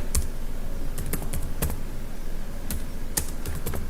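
Quick, steady keystrokes on a computer keyboard while code is entered, close and continuous clicking with occasional heavier key presses.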